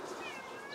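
A pet cat called Garfield, an outdoor garden cat, meows close by in a short, quiet cry with a rising then gliding pitch.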